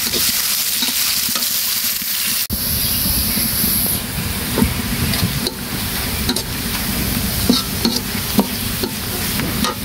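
Onions and chilies fry in hot oil in a wok-style pan, giving a steady loud sizzle with occasional scraping stirs. There is no talking.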